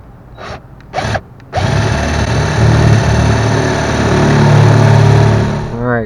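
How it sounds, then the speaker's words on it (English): A power drill bores a hole through an RV cabinet, running steadily and loudly for several seconds after a few short starting bursts, with the pitch shifting slightly as the bit works through the wood. "I'm going to drill a hole right through here."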